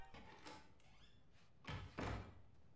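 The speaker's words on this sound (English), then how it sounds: "But then we hear the front door" A front door opens in the Pixar animated short Bao: a faint creak and scrape are followed by two soft, muffled thuds of the door moving, quiet and close in an otherwise hushed room.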